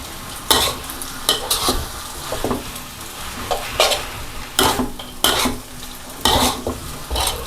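Vegetables and vegetarian glass noodles stir-fry in a hot pan under a steady sizzle, cut by repeated sharp scrapes and clacks of a utensil against the pan at an uneven rhythm, close up and with no talking.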